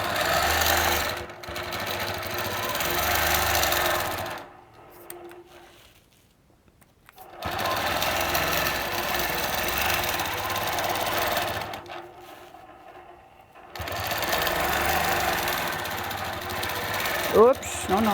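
A sewing machine quilting flowers with teardrop templates runs in three long steady stretches, each stopping before the next starts, with brief pauses between them and a voice talking over parts of the run.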